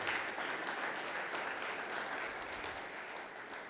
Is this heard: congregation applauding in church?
yes